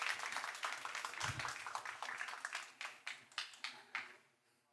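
Applause from a conference audience at a banking technology event, a faint steady patter of many hands that thins out into a few scattered, distinct claps before fading away.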